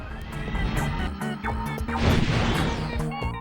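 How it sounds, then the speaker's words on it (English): Repeated heavy blasts from the Omega Shock Cannon in Ratchet & Clank: Up Your Arsenal, crashing booms in a rapid sequence over an energetic game soundtrack. "So we've got our Omega Shock Cannon."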